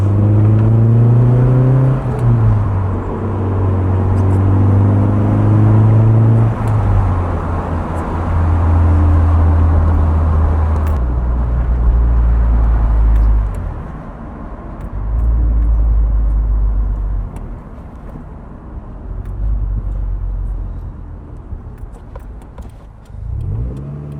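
Mint-condition Nissan 240SX driving along a straight road, heard from the passenger seat: a steady engine drone rising and falling through gear changes, loud and close, with no talking.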